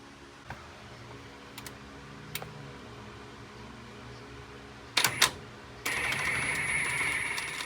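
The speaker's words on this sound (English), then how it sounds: "Here I'm removing the input shaft bolt." A socket wrench works the 10mm input shaft bolt on the steering shaft of a 2016 Ford F150 during a power steering rack replacement: sparse metallic clicks and taps, then a burst of rapid ratcheting and a steady whirring tool noise.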